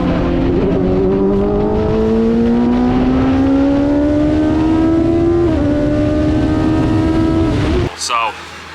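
A drift car's engine revs up in false neutral, a loud, rising whine climbing steadily for several seconds before cutting off abruptly, with a voice briefly audible over it.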